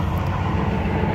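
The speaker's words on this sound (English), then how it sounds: "Sorry about the noise, but we're just standing on the side of the highway doing this." Steady, loud traffic rumble from a highway roadside, a continuous low roar of passing vehicles with no gaps or voices.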